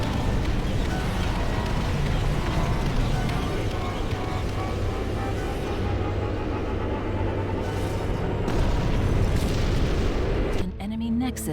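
Heavy explosions and rumbling blasts in the real-time strategy game Ashes of the Singularity as the enemy Nexus base is destroyed, loud and continuous, with a final burst near the end.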